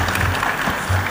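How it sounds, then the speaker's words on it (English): Brief burst of audience applause at a business summit in Lagos, a steady dense clatter of many hands filling the whole moment, with a low hum underneath. "Once again, a round of applause for Mr."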